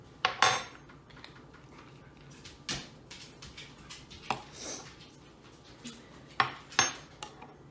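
A spoon mixes a pumpkin spice protein bite mixture in a bowl, producing scattered clinks and scrapes against the bowl at an uneven rhythm with quiet gaps in between.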